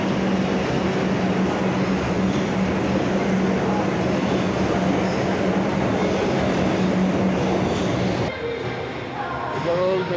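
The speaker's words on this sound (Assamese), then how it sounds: "আমাৰ মেট্ৰ' আহি গ'ল।" A metro train rolls into the station, a loud continuous rumble and rush of wheels on rails that cuts off abruptly near the end as it stops, with faint talk in the background.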